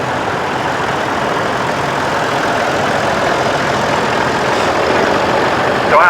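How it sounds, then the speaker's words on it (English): Massey Ferguson tractors driving out at the Tractor Fest show at Newby Hall, Ripon, giving a steady, loud, close engine rumble that runs unbroken throughout with no talking. "So our tractors are starting to file out now."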